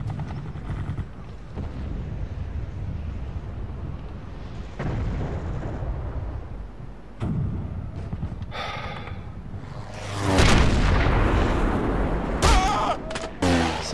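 Sniper rifle shots in Sniper Elite, a few sharp, separate cracks against a low rumbling game ambience, followed by a louder, booming blast, with someone speaking French in between.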